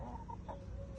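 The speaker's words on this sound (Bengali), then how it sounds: "মুরগিটা এখানে এসে কর কর কর কর করতেছে।" A hen clucks in a short run of soft, repeated notes in a home vegetable garden where bottle gourd is planted. The sound is quiet and slightly distant against a faint background.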